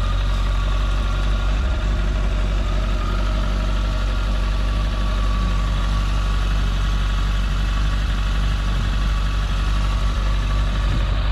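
A 2012 Kawasaki ZX14R motorcycle engine idles after a cold start with a steady, even, low rumble, loud and close, continuous throughout with no talk.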